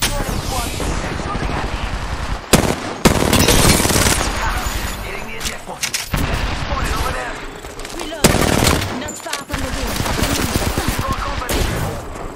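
Rapid automatic gunfire from R301 and R99 weapons in the Apex Legends video game, loud, dense bursts with brief gaps, heavy and continuous through most of the stretch.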